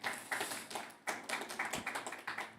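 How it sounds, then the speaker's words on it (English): Audience at a conference panel in a pavilion applauding, a moderate cluster of individual claps with uneven rhythm, briefly thinning before picking up again, heard somewhat distant and soft. "have a round of applause for Rennie, please"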